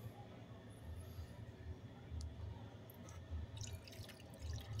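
Water is poured into the tray of a portable air conditioner, producing faint, irregular dripping and trickling over a low steady hum.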